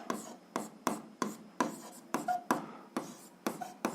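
Pen writing on paper while working through a 7th-grade algebra exercise, a steady series of about nine short scratchy strokes, close and fairly quiet, with no talking.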